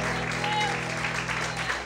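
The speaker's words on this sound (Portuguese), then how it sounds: "Começa a aplaudir o Senhor." Church congregation applauds during a worship service, a steady, dense wash of clapping with a low sustained hum beneath it, brief and continuous.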